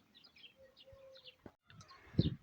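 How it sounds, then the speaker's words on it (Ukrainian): Birdsong near a rural homestead: a starling sings bright chirps and whistles, and a rooster joins with a short crow near the end, fairly close in a quiet yard. "І півень підспівує. Шпак собі і крильцями допомагає."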